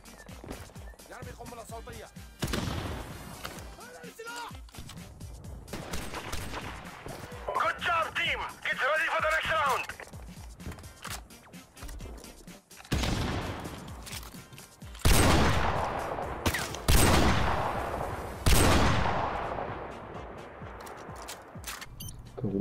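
Gunfire in Modern Warfare Remastered, with repeated loud bursts and single shots spread through a busy online match, while a player talks excitedly over the action.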